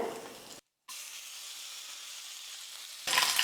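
Curry leaves drop into a hot oil tempering for onion chutney with the stove turned off: a soft, steady sizzling hiss, a brief dead-silent gap, then a louder crackling burst at the end.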